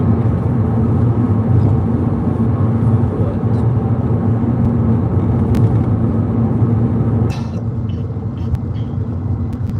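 A car on the way home gives a steady, loud low rumble of engine and road noise that carries on without a break, with a few faint clicks and rattles inside the cabin.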